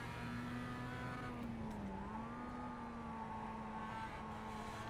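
A race car in the sim racing game iRacing drives on track during an overtake, its engine a steady, faint whine whose pitch shifts slightly as it climbs and eases, with no talking.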